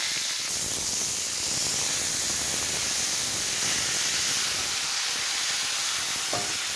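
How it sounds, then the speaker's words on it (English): Meat sears in a hot Dutch oven, a steady broad sizzling hiss that stays loud and close throughout, with no one talking. "behind me I have a dutchie getting nice and hot. I'm searing it real good."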